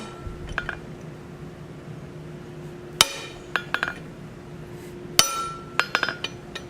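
Sharp metallic hammer strikes ring out while forging a steel tent stake into a rock bar, a few spaced blows with ringing tones between them, close and clear.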